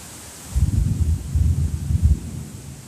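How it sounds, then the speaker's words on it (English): Steady rainfall outside the Skyliner station at Disney World's Riviera Resort, heard as a soft continuous wash with low rumbling gusts, fairly close and under shelter. "such a beautiful spot to watch the rainfall here at Disney World"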